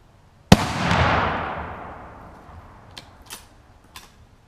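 A single loud Savage Arms .30-06 rifle shot fired at a steel target outdoors, a sharp crack followed by a long rolling echo that fades out, then a few faint clicks.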